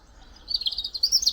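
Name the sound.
bird chirping in the woods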